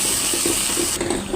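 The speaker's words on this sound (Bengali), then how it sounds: "এখন এটাকে ভালোভাবে কষিয়ে নেব।" Coriander, garam masala and cumin sizzle together in a hot pan for a Dhaka-style aloo dum, a steady close hiss with a faint rhythmic bubbling underneath that continues without pause.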